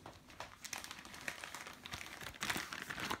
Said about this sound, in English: I have 4 propellers in a plastic bag